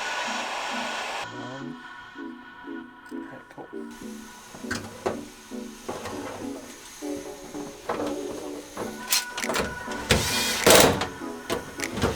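A heat gun blows steadily while shrinking heat shrink tubing over wire connectors on a Honda Civic, its whirring hiss running under clicks and handling noises, growing louder near the end.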